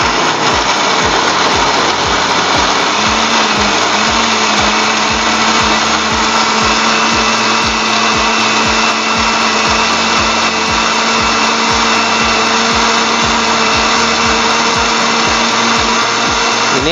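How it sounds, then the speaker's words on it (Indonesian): An electric blender whirs continuously at full speed, pureeing a kilo of washed raw chili peppers with water, a loud steady motor roar with grinding rattle that barely varies throughout. "Cabai mentah. Kita blender yang udah dicuci bersih ya."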